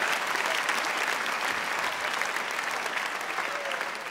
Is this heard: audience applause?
yes